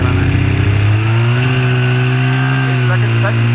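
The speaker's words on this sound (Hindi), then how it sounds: "इस वक्त स्नो बाइक का राइड कुंडोरी में इस वक्त स्नो बाइक का मजा ले रहा है।" A snow bike engine runs steadily in the snow at Gulmarg, Kashmir, a loud, close, sustained motor drone with a slight pitch rise, continuous throughout.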